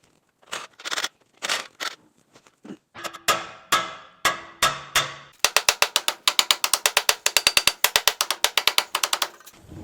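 A ratchet wrench works nuts off a truck steering spindle behind the brake assembly, starting with a few slow bursts of clicking and speeding into rapid, loud, regular ratcheting strokes.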